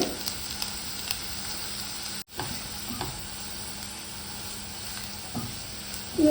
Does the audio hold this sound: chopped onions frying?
yes